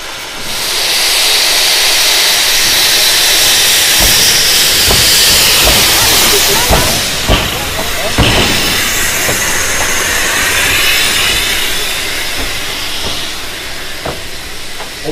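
A 1909 Fives-built 230T steam tank locomotive from the Breton network, working on the Train des Pignes, gives off a loud, steady hiss of steam, close by, with mechanical clanks and knocks through it.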